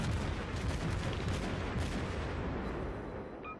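Guns of a Tier 5 Omaha cruiser firing in World of Warships, a dense, continuous barrage of booming shots and rumbling blasts, loud and close, gradually easing toward the end.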